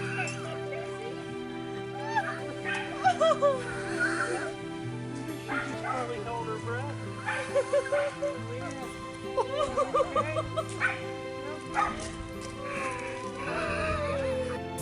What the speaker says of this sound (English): A dog that went 2 whole years without seeing its favorite person.